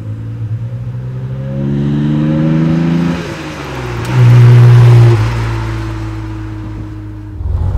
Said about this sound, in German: Er hat einen tollen Sound, einen richtigen Sportwagen-Sound und er baut sofort Druck auf